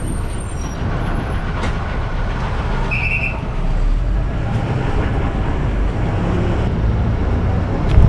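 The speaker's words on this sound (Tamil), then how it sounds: "இப்போ பேஸ்மெண்ட்டில் பஸ் போயிட்டே இருக்கு" A bus drives through an underground basement on a route from Kilambakkam bus terminus toward Iyyappanthangal. It gives a steady, enclosed engine and road rumble with faint rattles, continuous and fairly loud throughout.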